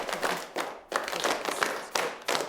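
Pupils in a secondary school music lesson clap a rhythm and a steady pulse together, giving bursts of close hand claps in a group pattern with brief gaps between phrases.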